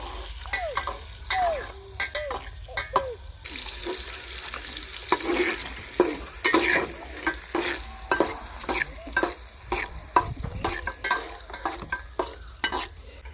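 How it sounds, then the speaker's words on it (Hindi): Dal fries and is stirred in a pot outdoors in a village field, a steady sizzle broken by repeated quick scrapes and knocks of the spoon against the metal, close and with no talking. "दाल को हम अब अच्छी तरह भून लेंगे।"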